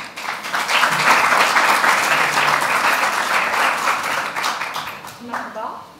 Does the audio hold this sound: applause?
yes